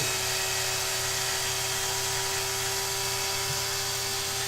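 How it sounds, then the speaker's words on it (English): A power drill runs in reverse, backing a threaded rod out of a die, whining continuously at a steady, high-pitched hum, close and loud for a few seconds without pause. "reverse the direction of the drill"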